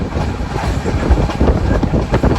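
Passenger train on a long Indian rail journey from Kalyan to Tatanagar, heard from inside the coach as a steady, loud rumble with faint wheel clatter over the rails and no voices.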